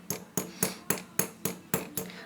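Riveting hammer striking a rivet to flatten it on a metal pendant, eight sharp evenly spaced metallic taps in steady rhythm, close and clear with no talk.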